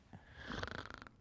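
A voice imitates snoring, giving a soft, nasal rasping snore that builds and then breaks into quick fluttering pulses. It is faint, brief and stands alone.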